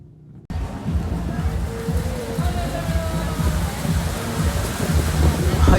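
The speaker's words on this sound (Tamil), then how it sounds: "ஐயோ மழை வந்துச்சுங்க." Rain starts falling outdoors, a dense steady hiss that sets in abruptly and keeps building, with voices talking over it.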